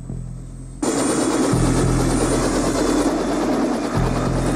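A helicopter in the horror film The Thing, a loud, sustained engine and rotor roar that bursts in abruptly after a low hum and holds steady with a pulsing low throb.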